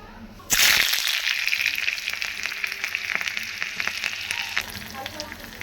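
Curry leaves and onion hit two spoons of hot oil as tempering for a dry fish sambar, bursting into a loud sizzle that then settles into a steady crackling fry close by.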